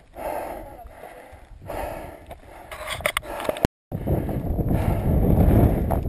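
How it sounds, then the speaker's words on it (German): Wind buffets the microphone high up on a rocky mountain trail in Mallorca, a gusty rumbling roar that swells and eases, briefly cuts out, then returns stronger. "So, jetzt kommt der Wind, jetzt sind wir schon hoch oben."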